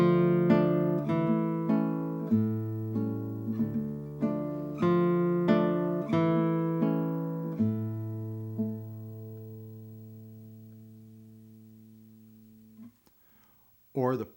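Classical guitar playing the opening of Capricho Arabe, starting loud then fading through a decrescendo, swelling and receding again, ringing notes dying away near the end before a brief sound at the close.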